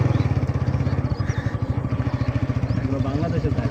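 A motorcycle rides along with a low, rapidly pulsing engine chug near the border fields, running steadily throughout beneath a person talking.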